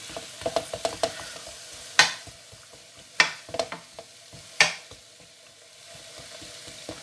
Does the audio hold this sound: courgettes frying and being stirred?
yes